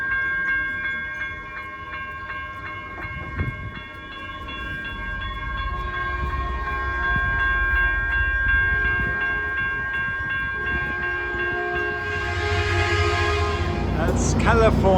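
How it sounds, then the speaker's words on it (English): A Caltrain double-decker commuter train rolls into a station, its steady rumble joined by sustained tonal squeals or horn-like whines that later give way to a rising hiss as it nears. "That's California double-decker commuter majesty right here. And this is our one coming."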